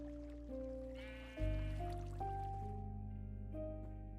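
Sheep in the Minecraft video game bleats once, close and clear, over steady tonal background music in a singleplayer survival world.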